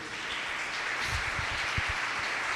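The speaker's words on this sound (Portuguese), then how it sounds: "Vamos aplaudir ao Senhor por isso" Church congregation applauding during a service, a continuous patter of many hands clapping at a moderate, fairly distant level with a few sharper claps standing out.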